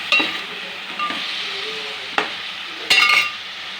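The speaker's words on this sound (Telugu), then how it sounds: "చిన్నగా ఉన్నాయి వంకాయలు, లేతగా ఉన్నాయి. ఇవి మధ్య వరకు వేయించుకోవాలి" Small, tender eggplants frying in a pan with a steady sizzle, broken by a few sharp scrapes and clinks of stirring.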